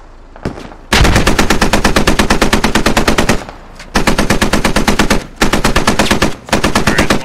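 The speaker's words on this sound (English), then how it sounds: "Just shoot east. Just fucking light it up." Sustained automatic gunfire in the Squad Ops military shooter, long loud bursts of rapid shots hammering in near succession with brief gaps between strings, up close and dominating.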